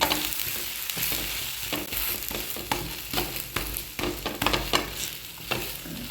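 Dosa batter sizzles and fries on a hot pan, a close, steady crackle broken by scraping and spreading sounds from a ladle, with no voices.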